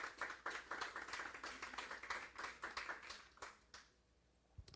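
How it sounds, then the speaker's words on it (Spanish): A church congregation claps together during a Spanish-language sermon, a fairly quiet burst of many hands with a loose rhythm that fades out near the end. "dele un fuerte aplauso al Señor"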